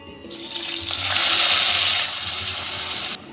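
Onion and tomato paste hitting hot oil in a pan already holding fried whole spices such as cardamom, cinnamon and cloves, giving a steady loud sizzling hiss that swells and then settles before stopping abruptly, with no voices.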